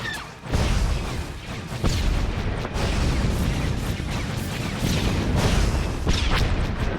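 Missile volleys in Star Wars: The Old Republic space combat, a steady stream of loud booming launches and explosive bursts rolling one after another over several seconds, with no talking.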